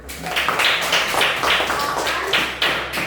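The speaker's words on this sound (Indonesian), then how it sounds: "Oke, tepuk tangan untuk Leona" A class of children claps for a classmate in a short run of quick, uneven hand claps. The sound is close and steady for about three seconds.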